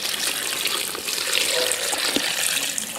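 Rainwater poured over chopped nettles in a container, a steady close splashing pour running without pause, with no talking.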